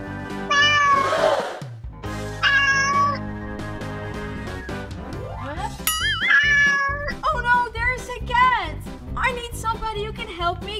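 A cartoon cat meows repeatedly in a string of drawn-out, rising and falling cries, loud and close, with voices and other cartoon sounds around it.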